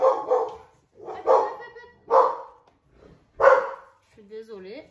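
Several sharp dog barks come in quick bursts at close range, spaced roughly a second apart, followed by a short whine.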